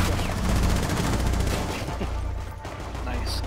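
Gunfire from a hip shot in Rainbow Six Siege, presidential plane map, team deathmatch: a dense, loud volley of rapid automatic shots through the first half, easing into scattered bursts, with voices underneath.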